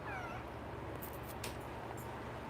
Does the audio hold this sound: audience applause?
no